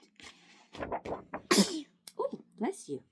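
A single sharp sneeze bursts out mid-clip, close and loud, within a quiet bedtime reading of a children's construction site story, with a soft voice speaking before and after it.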